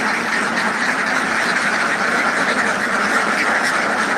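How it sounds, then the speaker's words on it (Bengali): Many farmed ducks quack steadily in an enclosed hatchery pen while waiting to be let out onto a pond, a dense, continuous chorus close to the microphone with no voices over it. "কিছুক্ষণের মধ্যে হাঁসগুলোকে পুকুরে ছেড়ে দেওয়া হবে"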